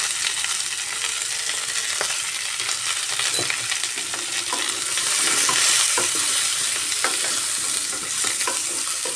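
Pumpkin sizzles loudly as it is stirred in a pan with ground coriander, ground cumin, slit green chillies and salt for a shrimp curry. Close scraping strokes sound over a constant frying hiss.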